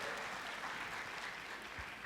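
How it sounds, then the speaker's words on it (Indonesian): A church congregation claps together in a steady, dense wash of applause that fills the whole room and holds at an even level throughout. "Tepuk tangannya boleh yang paling meriah buat Tuhan kita"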